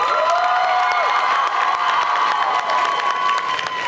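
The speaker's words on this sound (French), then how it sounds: "je voudrais que vous leur fassiez encore un tonnerre d'applaudissements" A loud audience at a cosplay contest during a Japan Mania convention cheers, whoops and applauds steadily throughout, with shouts rising above a dense crowd roar.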